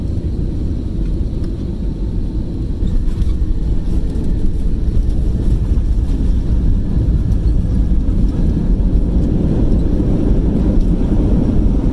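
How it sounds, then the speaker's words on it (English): A steady, loud low rumble and roar fills a Jetstar Airbus A320 cabin as it prepares to land at Melbourne Airport, continuous and unbroken with no voices. "Getting ready to land at Melbourne Airport."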